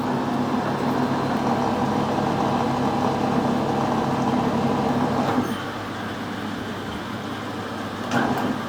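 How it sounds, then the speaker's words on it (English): A metal lathe runs in reverse during screw cutting for a tractor radiator cap, a steady close motor hum with faint mechanical rattle that drops slightly in level partway through. "reverse the lathe"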